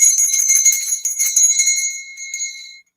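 A Buddhist bell is struck once during a live stream, ringing out bright and clear with shimmering high overtones that fade steadily over about three seconds, with no voices.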